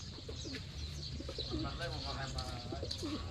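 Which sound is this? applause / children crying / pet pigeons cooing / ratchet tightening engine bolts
pet pigeons cooing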